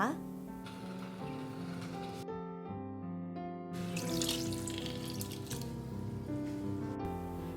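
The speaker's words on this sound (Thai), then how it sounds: "เดี๋ยวเราก็จะเอาน้ำใบเตยหนึ่งถ้วยตวงที่เราเตรียมไว้เนี่ย ใส่ ลงไปได้เลยนะคะ" Pandan leaf water, one measuring cup, poured into a pot of sago dessert that has cooked down, a steady liquid splash mixed with background music and kitchen noise.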